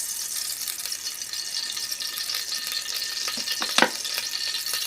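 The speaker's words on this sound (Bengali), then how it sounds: "তেল দিয়ে দিলাম" Mustard oil poured into a hot pan sizzles in a steady, bright hiss with a few sharper crackles and spits near the end, close and continuous with no talking.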